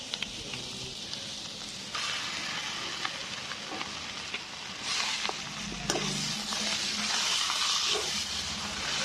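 Boiled potato and raw banana mixture with coriander being stirred in a pan over low heat for banana chops, giving a soft sizzle with intermittent scraping and stirring sounds close by.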